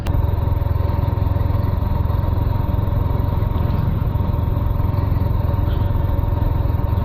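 A Yamaha R15M motorcycle engine drones steadily throughout while riding, a continuous low rumble with road noise, close and loud with no talking.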